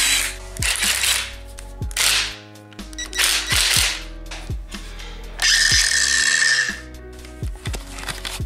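A Ruopi impact wrench runs in a string of short sharp rattling bursts with brief pauses between them, then one longer continuous whirring burst, close and loud with no talking.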